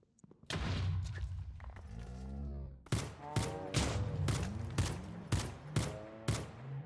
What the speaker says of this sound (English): I'm using a gun in a mystical fantasy world